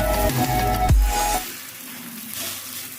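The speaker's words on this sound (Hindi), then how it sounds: "पलटाने के बाद फिर हम इसको 1 मिनट अच्छे से पकाएंगे।" A bottle gourd chilka frying in a pan, a bright sizzle with a brief bump of flipping early on, then a quieter, steady frying hiss.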